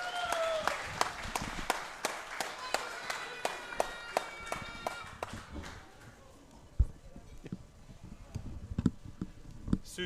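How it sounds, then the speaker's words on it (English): A live audience at St Andrews Hotel, Fitzroy claps for the juniors president, with sharp, fairly even applause that is loud at first and thins out toward the end. "Please put your hands together for Mrs."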